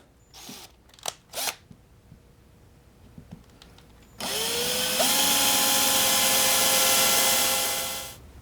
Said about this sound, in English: I better drill a couple holes for the screws